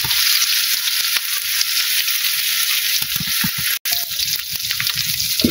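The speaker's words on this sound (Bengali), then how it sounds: "পেঁয়াজটা বাদামি কালার সস করে ভাজি আর কি।" Onions frying until brown in a pan in a village kitchen, a dense steady sizzle with sharp crackles and soft stirring scrapes, close and loud, briefly cut off near the end before resuming.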